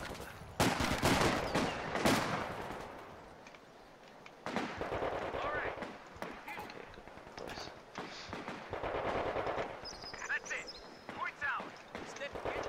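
Gunfire in the real-time strategy game Company of Heroes 2, sharp repeated shots and bursts scattered throughout under continuous talking voices, with louder volleys early and near the end.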